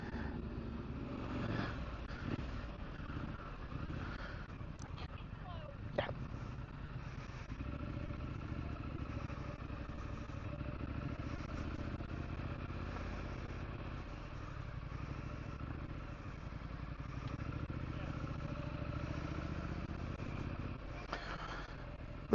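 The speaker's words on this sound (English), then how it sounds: "They're letting bikes in the out gate," Motorcycles rolling into a show at The Motorist rumble at a moderate distance as a steady, low mix of engines, with a few clattering knocks, under faint outdoor background noise.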